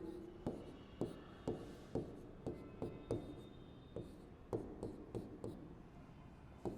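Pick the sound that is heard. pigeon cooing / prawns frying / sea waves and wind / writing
writing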